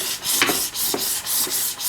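Sandpaper rubs back and forth over a turned wooden double spoon blank in quick rhythmic strokes, about four scratchy passes per second, close and fairly loud, with no voices.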